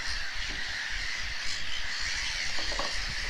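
Harsh black-headed gull calls squawk over a steady windy, rushing background, a few raucous cries from birds at a moderate distance, at the RSPB Leighton Moss nature reserve in June.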